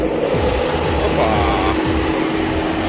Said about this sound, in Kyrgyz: Учурда кондиционер иштеп турат, шуулдап.